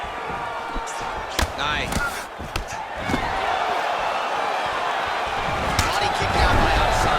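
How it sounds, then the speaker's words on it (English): UFC arena crowd oohing as Adesanya advances on his opponent, a dense continuous roar with sharp impact thuds and slaps cutting through, commentators talking over it. "You hear this crowd just eating out of his hand, oohing and on every time he advances"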